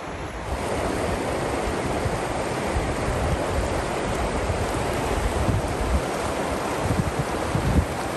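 A river flows through the Weminuche Wilderness in Colorado's San Juan Mountains, giving a steady, fairly loud broadband rush that carries on unbroken with no voices.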